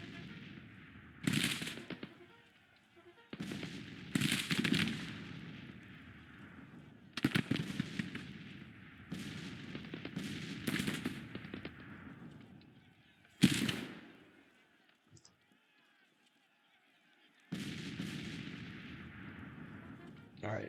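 A Civil War battle in Grand Tactician plays out with repeated booming volleys of musket and cannon fire, spaced several seconds apart and trailing off into rumbling echoes, followed by a quiet stretch before a final burst.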